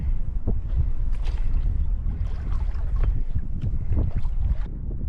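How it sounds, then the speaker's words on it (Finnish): Water sloshes and laps steadily against a floating raft hull on small waves of a lake, with gusty west wind noise and occasional small splashes throughout. "Pienillä aalloilla keinuu tää räfti tässä."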